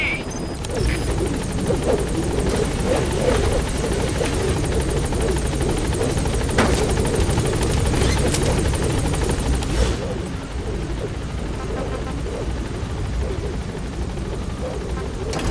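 Helicopter rotor and engine drone from the Pequod landing in Metal Gear Solid V: The Phantom Pain, a loud, steady broadband roar running throughout with a brief burst near the middle, slightly easing toward the end.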